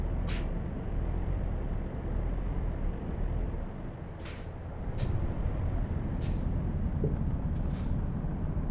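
A heavy truck hauling an industrial cable reel in Euro Truck Simulator 2 labours with a deep, steady engine rumble, broken by several sharp air-brake hisses.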